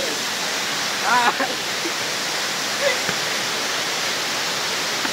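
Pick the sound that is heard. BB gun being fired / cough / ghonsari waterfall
ghonsari waterfall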